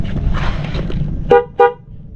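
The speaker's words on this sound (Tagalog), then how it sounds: "MOCC dual horn. Yun na snail horn yun na kalagay dito guys" Two short, loud honks from an MOCC dual snail horn fitted to a Honda Wave125 motorcycle, sounding close up against a steady background rumble.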